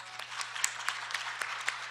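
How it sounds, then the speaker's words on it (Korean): Soft, steady applause from a conference audience for the panelists at an international patent court event, heard at a distance as a faint wash with a few sharper claps poking through over a low electrical hum. "여기 계신 모든 패널분들께 다시 한번 큰 박수 부탁드리겠습니다"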